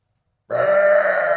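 After a moment of silence, a single long, loud, rumbling burp sounds up close and holds steady to the end.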